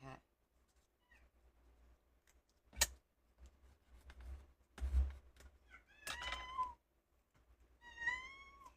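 A cat meows several times indoors, with short calls early on and a clearer drawn-out meow near the end, mixed with faint thumps and ticks during a quiet papercraft session.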